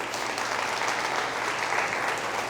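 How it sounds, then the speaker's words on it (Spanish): A church congregation applauds during a sermon, producing a continuous, dense wash of many hands clapping at steady loudness with no gaps. "Dale fuerte el aplauso al Señor."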